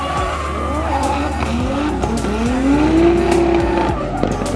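A drift car slides through a drift event with long, rising tire squeals over a loud, revving engine, the screech sweeping upward and holding near the end.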